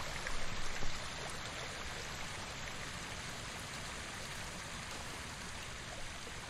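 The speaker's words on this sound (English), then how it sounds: "the path up here is the waterfall itself" A waterfall in Ghost of Tsushima roars as a steady broadband rush of falling water, loud and close, with a slightly stronger surge in the first second before it holds even.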